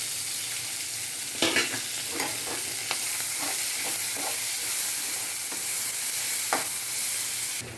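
Onion hitting hot oil in a pan with whole spices such as cardamom, cloves and peppercorns, giving a steady close sizzle with scattered stirring scrapes and spatters, no voices.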